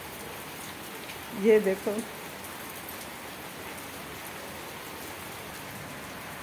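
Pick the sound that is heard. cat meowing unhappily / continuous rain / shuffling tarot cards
continuous rain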